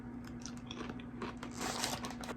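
Someone crunches and chews a crispy masala snack close to the mic, soft crisp bites and crackling chewing that get louder toward the end, with no talking.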